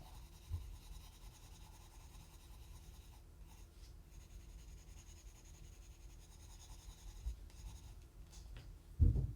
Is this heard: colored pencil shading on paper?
yes